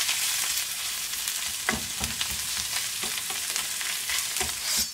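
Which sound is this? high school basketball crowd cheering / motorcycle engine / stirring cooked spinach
stirring cooked spinach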